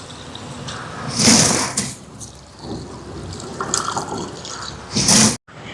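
Water splashes into a cooking pot of keeri samba rice in two short bursts, the first longer and the second brief, as kuzhaisaadham is made for a Thai Poosam almsgiving.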